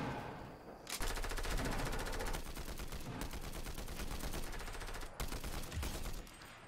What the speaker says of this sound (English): I also just picked up the green combat assault rifle, which is absolutely fantastic.